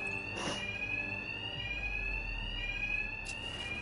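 Fire alarms blare continuously in Batman: Arkham Knight, a steady high-pitched tone sounding throughout, with brief noisy bursts near the start and end of the stretch.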